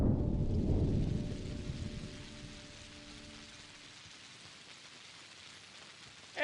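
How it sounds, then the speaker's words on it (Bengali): Rain beginning to fall outdoors, heard as a soft, steady hiss of drops that starts fuller with a low rumble and thins to a quieter patter, no voices present. "এই দেখো আবার বৃষ্টি শুরু হয়েছে"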